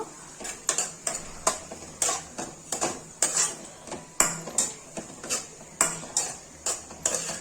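Sago roasting in a pan for jaggery payasa, stirred with a metal spoon: a regular run of sharp scraping clinks, about two each second, over a faint sizzle, with no voices.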